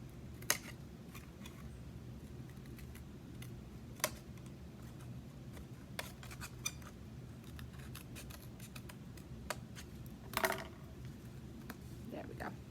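Scissors trimming the edge of a woven paper plate bowl make a few sparse, faint snips and clicks over a quiet room murmur.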